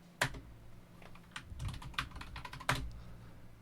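Someone types a short command on a computer keyboard, a quiet run of uneven key clicks with a couple of sharper taps in a calm room.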